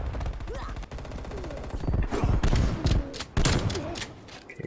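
Shotgun blasts and gunfire in the video game Call of Duty Cold War, a run of loud close booms and rapid shots bunched in the second half over a busy game mix.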